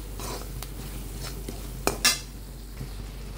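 Chicken masala stirred into a soybean curry in a pan, heard as a faint spoon scraping and a couple of sharp metal clinks over a steady low background hum.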